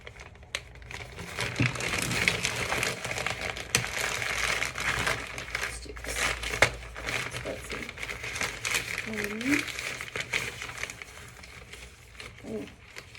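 Crinkling and rustling of plastic and paper packaging as a welcome package holding pamphlets is torn open, steady handling noise throughout with a voice talking now and then.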